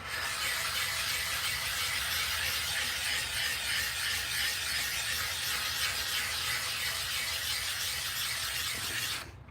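An aluminum oxide sharpening stone is rubbed steadily to build slurry, giving a continuous, close, gritty scraping hiss that runs unbroken for about nine seconds before stopping abruptly.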